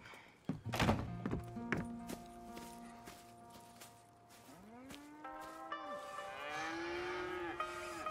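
Cows moo on a farm, several long drawn-out calls close by, mixed with thuds and hoof steps, no talk.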